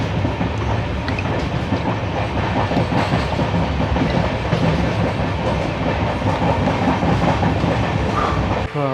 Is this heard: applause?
no